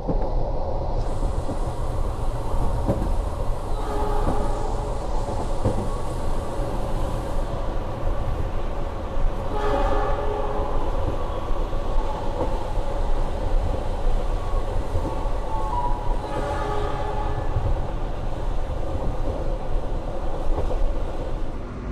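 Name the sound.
Argo Bromo Anggrek train stopped at station, about to depart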